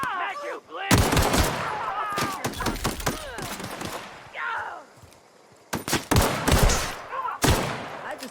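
Gunfire in the video game The Outer Worlds: loud bursts of rapid shots and single cracks come in clusters with short gaps, mixed with shouting, impact sounds and other game noise.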